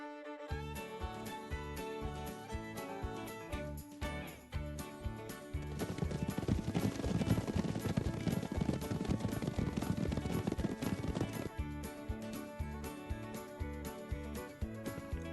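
Racing horses' hoofbeats gallop as a rhythmic sound effect, blended into a loud, busy music track that swells in the middle and then eases.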